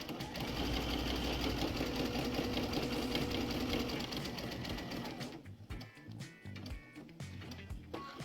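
Sewing machine stitching a quilt-as-you-go border: a fast, steady mechanical whir with rapid needle chatter, loud and close for about five seconds, then stopping into softer clicks and fabric handling.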